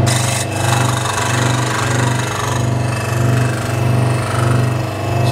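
A power scroll saw, a contour-cutting machine, runs loudly and steadily close by, with a constant motor hum and a rhythmic pulsing as the blade cuts.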